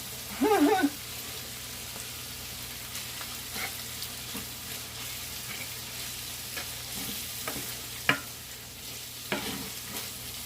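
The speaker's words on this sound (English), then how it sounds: "Give that a quick stir." Shrimp and chorizo paella being stirred in a pan, a burst of scraping at the start, then quiet sizzling with occasional soft clinks and taps, close and fairly faint.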